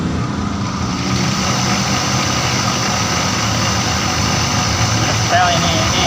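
A lathe motor runs steadily with a continuous mid-low hum while turning a camshaft for a Mio scooter in a workshop, close and constant, with a voice talking over it.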